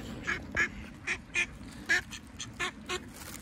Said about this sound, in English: That's the Indian. Sounds exactly like a mallard.